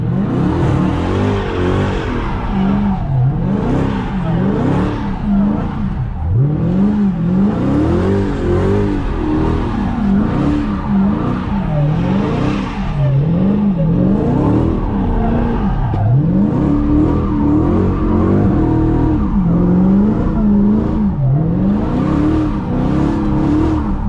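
A car revs hard and skids through repeated exit donuts and figure eights, engine pitch rising and falling in a steady cycling rhythm, loud and close for the whole stretch with tire noise underneath.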